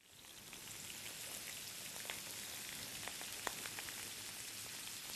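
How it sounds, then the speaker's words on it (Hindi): Eggplant fries in hot oil with a faint, even crackle and scattered small pops, like light rain, with no voices. "तेल डाल लेते हैं, गरम कर लेते हैं, और तेल से देखिए ये बैगन भूनना है हमने"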